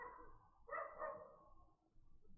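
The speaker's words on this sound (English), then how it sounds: "You're hearing dog noises too?" A dog barks faintly somewhere in the room, one short burst standing out over low background noise.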